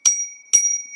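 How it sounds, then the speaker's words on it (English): A newly fitted bicycle bell rings twice, close and bright: two sharp metallic dings about half a second apart, the second left to ring on. "a new bell"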